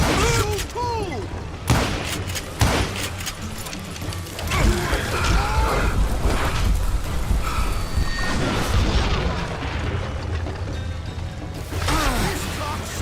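Gunfire in the Western shooter game Call of Juarez: Gunslinger, a dense, continuous run of shots, booms and crashing impacts lasting throughout, loud and close, with voices shouting under the chaos.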